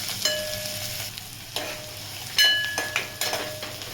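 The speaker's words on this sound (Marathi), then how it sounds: "कांदा चांगला सॉफ्ट होईपर्यंत परतून घ्यायचा आहे।" Small onions sautéing in a pan for a spicy mung dal amti, with a steady oily sizzle broken by close, sharp scraping taps as they are stirred, and no voices.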